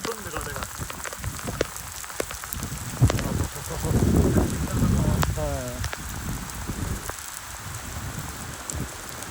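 Very heavy rain mixed with hail patters and clatters on a surface, dense scattered hits with a louder swell in the middle, some voices faintly underneath.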